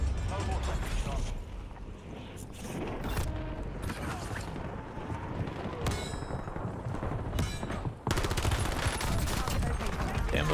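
Gunfire in the video game Warzone comes in bursts of sharp shots and clanks within a dense, busy game mix, with an abrupt loud volley toward the end and game chatter running underneath.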